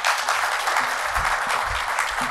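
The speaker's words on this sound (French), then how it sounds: "Je vous demande de les applaudir" Conference attendees at the MEDays 2023 health forum give a brief, even round of applause, moderately loud and steady with no voices on top.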